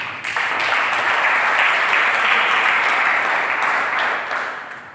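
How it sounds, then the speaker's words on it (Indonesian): A church congregation at a Sunday service claps steadily, a dense, loud wash of applause that holds for several seconds before tapering slightly at the end. "Berikan tepuk tangan."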